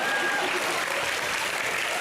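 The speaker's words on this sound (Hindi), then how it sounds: "जोरदार तालियां।" Studio audience on the Comedy Nights Bachao comedy show breaks into dense, steady applause, loud and unbroken from start to finish.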